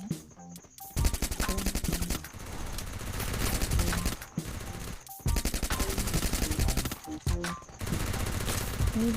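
Sustained, dense automatic gunfire in the mobile battle game Free Fire, several long loud bursts broken by brief pauses, rattling continuously and close.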